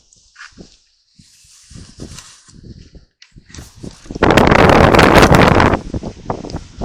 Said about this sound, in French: nous sommes en plein vent